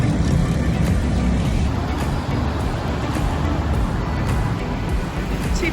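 Afternoon road traffic on a Bangkok street, a dense continuous roar of passing cars and other vehicles, steady and fairly loud with no voices.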